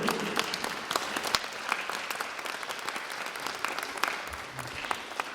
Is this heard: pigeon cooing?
no